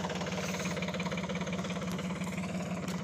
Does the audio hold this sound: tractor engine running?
yes